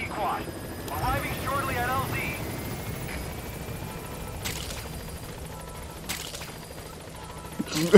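A helicopter arriving in the video game Metal Gear Solid V: The Phantom Pain, its rotor drone steady beneath in-game voice chatter and brief sharp effects, growing louder toward the end.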